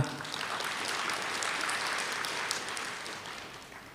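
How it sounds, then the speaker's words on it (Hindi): Applause from a seated audience at a spiritual gathering, a dense continuous wash of many hands clapping that holds steady and then slowly fades. "ये सारे सुपरस्टार यहां बैठे हैं, तालियां तो बजाओ जरा"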